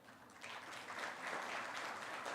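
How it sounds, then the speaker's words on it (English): Conference audience applauding, a faint, steady patter of many hands clapping continuously in a large room, heard from a distance with no voices on top. "please keep clapping"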